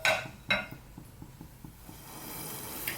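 Metal lid clanks down onto a pot of simmering potatoes in a home kitchen, two sharp clinks near the start followed by a soft, steady bubbling hiss, with no talk.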